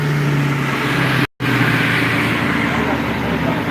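Dodge Hellcat tuned to around 1000 hp roaring steadily on a chassis dyno, loud sustained engine drone with a brief cutout near the middle before resuming at full volume, with voices faintly underneath.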